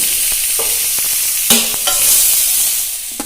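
Lentils frying lightly in a pan for a Bengali dal shukto, a loud continuous hissing sizzle close by, with a few scraping stirs and clinks of a spoon against the pan.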